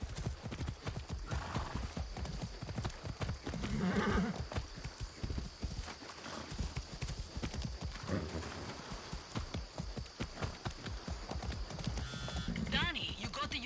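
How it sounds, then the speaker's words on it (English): Horse hooves clip-clop steadily in the video game Far Cry 6, a continuous rhythmic trot with a short whinny, under occasional talk and game ambience. "Be nice, horse."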